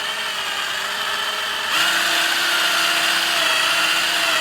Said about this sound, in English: For our next trick, we carefully do the countersink.